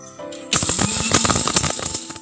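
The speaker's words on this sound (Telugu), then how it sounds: "మిక్సీ పట్టుకుందాం" An electric mixer grinder grinds raw toor dal and spices for rasam, starting abruptly after a brief clatter and running as a loud, dense, rattling whir for about two seconds with no speech.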